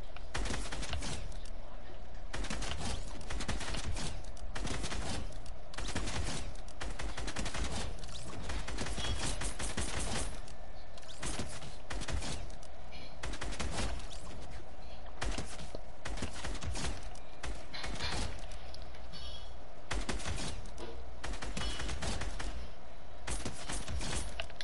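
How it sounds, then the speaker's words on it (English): Rapid bursts of Fortnite gunfire crackle over a steady background hum, with repeated volleys and short pauses throughout. "I'm just hearing shooting."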